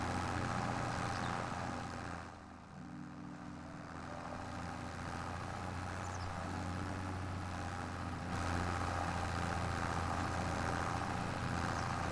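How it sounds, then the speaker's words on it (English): A loud farm tractor engine idles in Farming Simulator 25 as a steady, low, droning hum that fills the scene from start to finish, dipping briefly near the start before holding constant. "Bloody tractor's loud, isn't it?"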